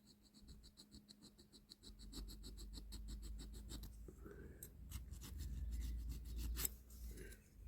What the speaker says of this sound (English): Get in there with the edge of your file.